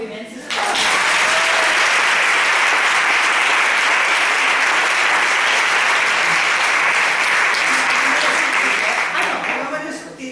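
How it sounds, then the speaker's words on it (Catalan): Audience applause at a women's leadership event, loud dense clapping that starts abruptly, holds steady and strong for about nine seconds, then tapers slightly at the end. "Un aplaudiment, sisplau."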